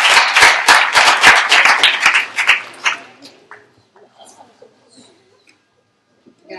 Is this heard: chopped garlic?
no